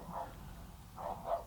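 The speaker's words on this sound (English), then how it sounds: "I apologize for the barking dog." A neighboring dog barks next door, two or three short, moderately loud yaps separated by a pause, with no talking over them.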